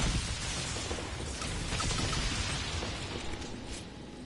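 Continuous rumbling blasts and crackling debris from grenade explosions in Dragon Age Inquisition, dense and loud throughout with no clear gaps.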